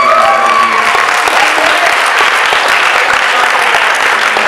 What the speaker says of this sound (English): please give a round of applause to your parents for coming out and supporting